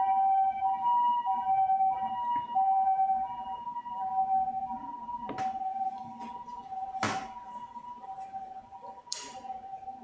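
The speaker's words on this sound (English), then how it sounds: "It's an ambulance coming by." An ambulance siren wails nearby in a steady, repeating tone that holds for about ten seconds, broken by a few sharp knocks close by.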